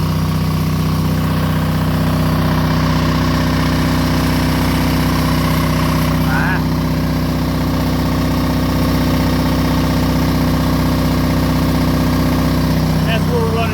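An Onan DJB diesel generator runs unloaded about five feet from its muffler, a steady low idling drone with engine hum that holds level throughout, with a brief faint knock partway through.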